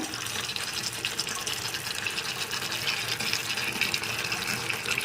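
Vinegar pours into chilli chicken cooking in a pan, a continuous hissing, splashing wash of liquid meeting hot food, steady and close throughout.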